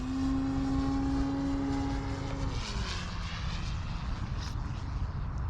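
Skywing 67-inch ARS 300 electric RC airplane coming in to land on a 6S battery with an 18x10 propeller, a steady propeller whine that drops in pitch as the motor throttles back, over constant wind noise.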